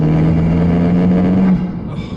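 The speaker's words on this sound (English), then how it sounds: "But I love that spool noise." A modified Abarth 595 Competizione drives along with a steady whining turbo spool tone over engine and road noise, holding for about a second and a half before it drops away.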